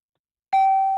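A quiz answer bell rings once on a sports talk show, a single clear ding that starts sharply after silence and rings on steadily to the end.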